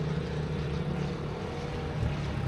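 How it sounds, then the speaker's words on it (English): An airplane passes overhead in the Philippines as a steady, broad engine drone that stays even in loudness, with no talking. "Ooh, look, there's a plane up there."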